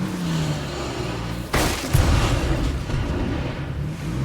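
Minefield blasts going off in State of Decay 2, a sharp burst followed by a second heavy boom that rumbles low, over a steady background hum of the game, no voices.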